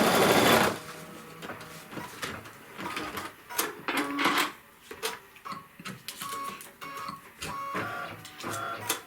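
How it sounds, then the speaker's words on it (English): An embroidery machine sews a tack-down line on fabric in a hoop, giving a fast, close mechanical chatter of stitches with brief pauses and shifts in speed. "this is going to tack our piece of fabric down"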